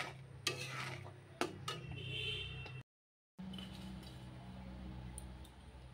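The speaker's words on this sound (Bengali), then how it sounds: "এইভাবে নাড়তে হবে, তলায় না লেগে যাক।" A jaggery sandesh mixture is stirred in a pan over low heat, giving steady soft scraping with a couple of sharper knocks, and a brief silent gap midway.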